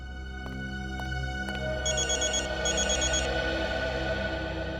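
A telephone rings indoors, with short bursts of an electronic trilling ring repeated twice over a steady humming background, preceded by a few sharp clicks, no voices.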